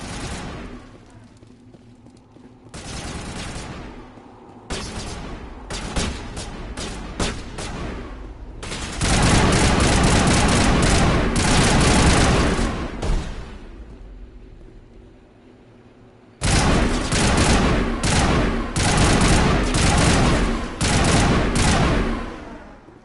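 Gunfire in the video game Mass Effect, played on Insanity difficulty: loud, dense bursts of rapid automatic shots in several long volleys separated by brief lulls, with no talk.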